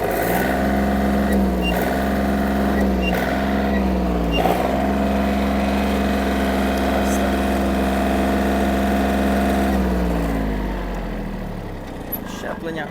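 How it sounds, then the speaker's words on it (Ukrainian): Yanmar F-200 mini tractor diesel engine running steadily in first gear, a loud, even, rumbling idle that holds close and constant before easing slightly quieter near the end; no talk over it. "До речі, зверніть, наскільки чисто працює двигун."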